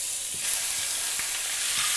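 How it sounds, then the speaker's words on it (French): Veal pieces sear in very hot olive oil in a pot, a dense bright sizzle steady throughout, with a few faint soft knocks underneath and no voices. "Lorsque ma cocotte et mon huile est très chaude, je verse les morceaux de veau."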